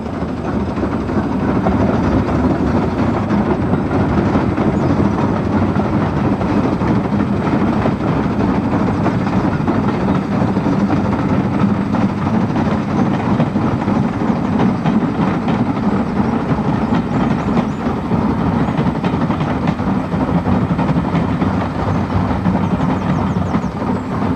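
A steam train runs along a railway line up a river valley in Northern England. Its loud, continuous rumble and rolling rhythm carry on steadily throughout, close by, with no voices.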